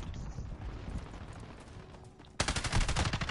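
Gunfire from the Call of Duty Modern Warfare beta, a muffled rattle of shots followed by a sudden loud burst of rapid automatic fire in the final second, close and dense.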